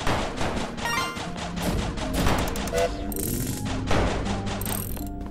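Rapid bursts of game gunfire rattle in quick succession with mechanical clicks, a dense, busy stream of shots.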